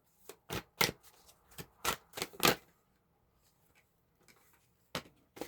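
Tarot cards riffle and snap in quick bursts, a flurry of shuffling, a short pause, then a few more faint flicks.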